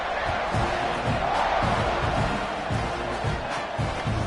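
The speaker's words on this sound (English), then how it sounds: "this crowd is buzzing after that last score" Football stadium crowd at a Texas Tech at Texas A&M game buzzing after a score, a loud, steady roar of many voices filling the whole stretch with rhythmic low thumps beneath, as the kickoff is set up.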